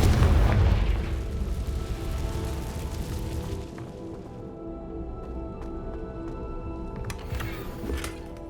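A loud, deep booming blast from the Confringo fire spell in Hogwarts Legacy hits at the start, then rolls into a long rumbling decay with faint crackles and small pops trailing behind.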